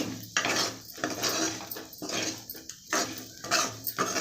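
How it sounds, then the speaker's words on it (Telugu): A metal spoon stirs garlic spice powder into a broad bean stir-fry in a pan, with repeated scraping and clinking strokes in an uneven rhythm, fairly close. A dog barks faintly in the background. "వెల్లుల్లి వేసి కొట్టుకునే పొడి కొంచెంసేపు కలబెట్టుకుందాం"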